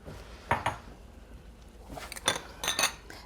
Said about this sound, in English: now I just kind of mix it together